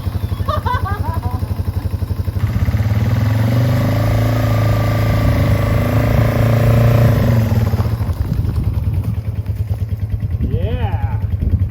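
A Yamaha TW200 dual sport motorcycle engine runs steadily at close range, its idle rising into a stronger revving drone for several seconds before settling back, with people talking over it at the start and end.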